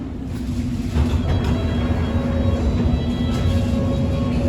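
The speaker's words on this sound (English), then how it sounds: "This is an all-station Metropolitan Line train to Northwood." London Underground Metropolitan Line train running on an all-stations service, a steady loud rumble with a sustained electric whine throughout, no voices.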